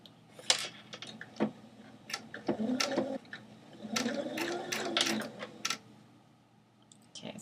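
A domestic sewing machine runs a straight hem along folded scarf fabric, its motor whirring in short bursts and pauses with light ticking between runs, close and fairly quiet.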